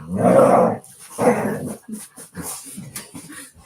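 A dog close by lets out two long, rough growls, then a run of softer whimpers and small yips, with no talking.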